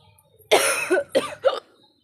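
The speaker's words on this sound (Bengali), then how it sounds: "কাশি হয়েছে হালকা হালকা দেখছি" Three close coughs from someone with a mild cough following a heavy cold, the first a long harsh one followed by two shorter bursts, heard clearly against a quiet background.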